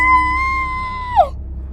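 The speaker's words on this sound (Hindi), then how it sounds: "तभी नीलू के कान में किसी के चिल्लाने की आवाज आती है।" Scream sound effect in an audio story, a sustained high-pitched cry held steadily for about a second before bending downward and cutting off, loud and alone over a low background hum.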